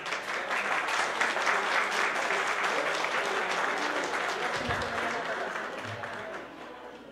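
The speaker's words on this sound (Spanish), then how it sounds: "Un aplauso para él." An audience applauds steadily at a rodeo federation awards ceremony, a dense wash of clapping that holds for several seconds before thinning out, with a brief voice heard under it.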